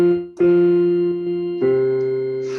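Piano plays a short hymn phrase built on a B natural: sustained chords struck clearly, the first soft, then louder chords that ring alone without talk.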